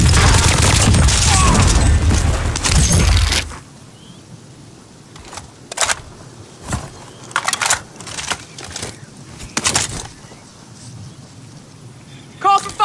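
Airstrike explosions in a video game: a heavy, loud rumbling barrage opens the clip, then trails off into scattered sharp blasts and distant bangs, with voice chatter from the game over the quieter stretch.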